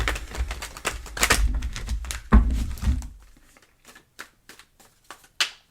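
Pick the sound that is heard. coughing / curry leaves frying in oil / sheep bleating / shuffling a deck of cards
shuffling a deck of cards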